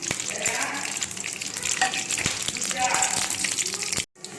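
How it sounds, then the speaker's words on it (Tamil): Fenugreek seeds and vadagam frying in hot oil in a kadai, a loud dense sizzle and crackle running throughout at close range, with brief stirring scrapes and a sudden short drop near the end. "கடாயில் எண்ணெய் காஞ்சோன்னே நம்ம எடுத்து வச்சுருக்க வெந்தயம் வடவும் ரெண்டையும் அதில் சேர்த்துடணும்"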